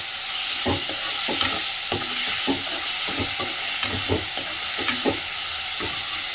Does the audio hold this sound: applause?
no